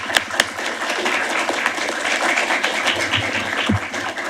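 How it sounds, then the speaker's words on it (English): An audience at a panel event on ending sexual violence in conflict breaks into applause, a dense clatter of clapping that holds steady at moderate loudness throughout. "I hope you'll join me in a round of applause"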